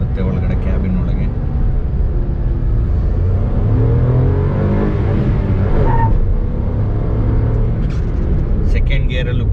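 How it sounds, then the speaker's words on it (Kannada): Maruti Suzuki Alto K10 pulling away hard with its wheels spinning. A loud, steady engine and road rumble fills the cabin, with a voice talking over it. "ನಿಮ್ಗೆ ಸೌಂಡ್ ಕೇಳಿಸಿರ್ಬೋದು, ವೀಲ್ ಸ್ಪಿನ್ ಆಗಿದ್ದು"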